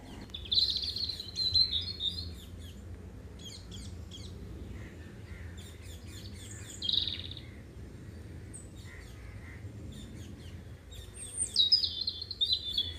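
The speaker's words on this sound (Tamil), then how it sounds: "அந்த குயிலோட சத்தம், கிளி கத்துறது, காக்கா கத்துறது" Cuckoo, parrot and crow calls outdoors: bright chirps and whistled notes come in bursts, with some harsher caws among them, over a low background hum.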